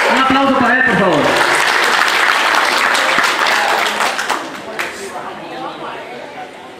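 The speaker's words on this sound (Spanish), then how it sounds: "Un aplauso para él, por favor" A speaker's voice at a community association honors ceremony gives way to loud crowd clapping mixed with chatter, which tapers off over the last few seconds.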